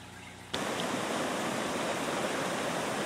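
Rushing water from a fully flooded creek surges in abruptly after a quiet half second, then roars as a steady, broad, close wash of noise with no voices.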